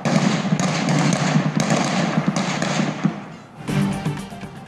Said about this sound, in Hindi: देखें फायरिंग हो रही है, ये देखें चोर हैं, ये देखें पुलिस मुकाबला हो रहा है